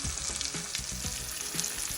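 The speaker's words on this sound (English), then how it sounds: "I'm gonna brown that on both sides" Meat browns in a hot pan with a steady, close sizzle and crackle, and a few soft clinks come through. It runs on evenly throughout with no voices.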